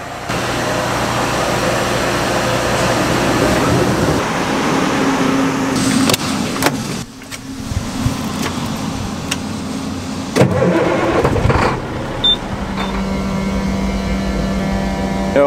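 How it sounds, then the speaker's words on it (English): A truck engine cranks and catches, then settles into a steady, close idle that runs on alone for several seconds, with a brief dip and some clunks partway through, on a muddy harvest day. "Now, if this truck will just start, fingers crossed."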